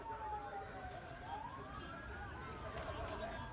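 Wailing ambulance sirens rise and fall over a dense crowd murmur and traffic noise after a large explosion in Ankara, sounding somewhat distant.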